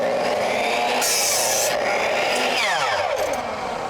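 Power saw whining loudly as it cuts through a wooden patio column, a steady close buzz with a brief sharper burst partway through and the blade pitch shifting near the end.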